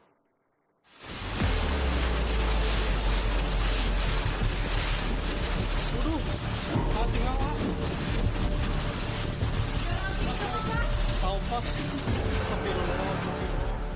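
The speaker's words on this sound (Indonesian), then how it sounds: "Angin yang sangat kencang dan hujan sangat deras menumbangkan sejumlah pohon besar." Loud, constant roaring wind buffets the microphone, with a dense rushing wash of heavy rain, continuing without pause, during a storm in Cimahi, West Java.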